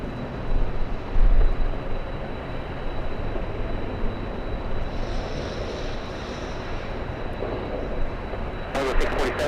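A Lufthansa Airbus A380 jet takes off at LAX in a crosswind: a steady, broad engine roar from some distance holds for the whole stretch, with faint voices nearby.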